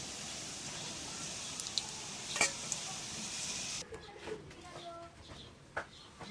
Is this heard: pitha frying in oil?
yes